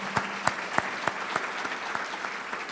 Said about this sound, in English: Let's give the students another round of applause.